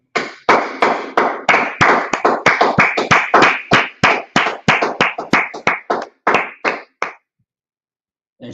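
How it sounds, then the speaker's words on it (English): Rhythmic, unison hand clapping from a group during a scripture and law class, about twenty sharp claps at a brisk, steady pace before stopping abruptly into silence. "let's clap it up"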